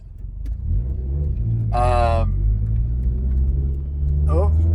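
A Subaru Forester STI fitted with a big turbo drives along with a deep, steady engine rumble, broken by two short rising whines as it pulls.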